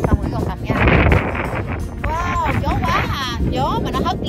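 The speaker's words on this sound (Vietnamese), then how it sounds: "Gió mà nó hất lên một cái là nó đau người luôn á, nó đau cái chân." Strong wind gusts roar across the Pinnacle Desert sand dunes, buffeting the microphone loudly and continuously while people talk over it.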